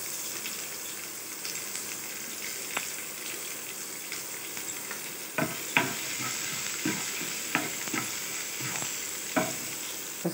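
Onions and cumin fry in hot oil for a soyabean curry: a continuous close sizzle with sharp clicks and scrapes of stirring that grow busier in the second half, and no talking.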